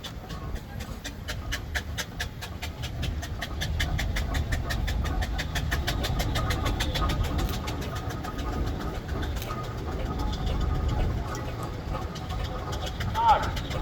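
Steam engines driving into a rally ring at a steam engine society show: a low, steady engine rumble with rhythmic chuffing pulses runs throughout, moderately close, with background crowd noise.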